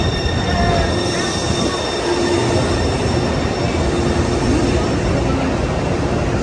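A Taipei metro train pulls into a station with a loud steady rumble of wheels on rails, thin squealing tones and a broad hiss that stays constant throughout.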